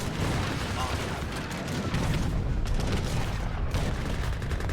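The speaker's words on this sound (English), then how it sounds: "Yeah, there's the Gatling gun." A Gatling gun fires in the Age of Empires III battle game, a dense, sustained rattle of rapid shots mixed with booming battlefield gunfire, loud and continuous throughout.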